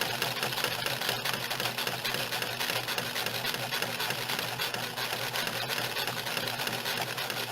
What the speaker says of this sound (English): we're going to follow our initial markings and just let the machine go